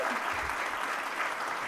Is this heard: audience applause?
yes